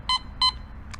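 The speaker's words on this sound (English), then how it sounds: "if you swing over it, it might just sound like this" Two short, identical electronic beeps in quick succession, then a fainter third tone, crisp and close against a low background hum: a Teknetics Delta 4000 metal detector signalling over a silver dollar.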